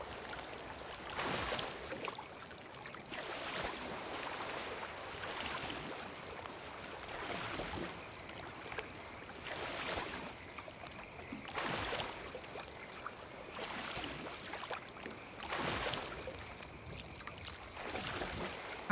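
A canoe paddling across water in the Ark Fjordur video game, with rhythmic swishing strokes roughly every two seconds and a steady wash of water and wind beneath, no talk.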